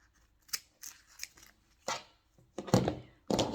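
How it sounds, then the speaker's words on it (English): Scissors snip the ends of masking tape while a castor oil compress is made, a series of crisp, close cuts in uneven bursts, the last few louder. "and then I'm going to snip it on either end,"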